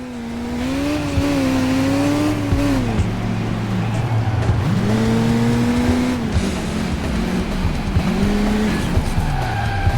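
Police pursuit in the racing game Autobahn Polizei, with engines revving and shifting pitch while tires squeal and skid repeatedly through sideways maneuvers, loud and continuous throughout.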